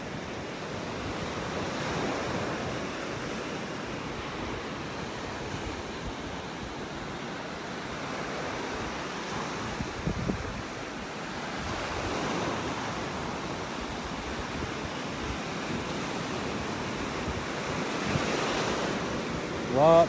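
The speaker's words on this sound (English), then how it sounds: "Been taking a pounding from these waves." Ocean surf pounds a beach in North Naples, Florida, a steady wash of breaking waves with gusty wind noise on the microphone, continuous and fairly loud, with no voices.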